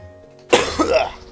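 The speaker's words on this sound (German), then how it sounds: "ich muss mal ganz kurz husten" A single close cough with some throat clearing, a sharp burst followed by a rough rasping tail, alone against near silence.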